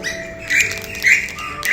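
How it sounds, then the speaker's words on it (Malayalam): Birds chirping in the background around dusk near a temple, short bright tweets and calls repeating over a soft steady ambience. "ഇവിടെ ഇപ്പോൾ ഏകദേശം സന്ധ്യ ആവാറായി, അതുകൊണ്ട് ഇഷ്ടംപോലെ കിളിയുടെ സൗണ്ട് നിങ്ങൾക്ക് ബാക്ക്ഗ്രൗണ്ടിൽ കേൾക്കാൻ പറ്റും."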